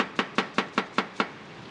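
A knife chops Napa cabbage on a cutting board in a restaurant kitchen, six crisp, evenly spaced strokes close up with no talk.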